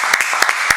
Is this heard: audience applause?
yes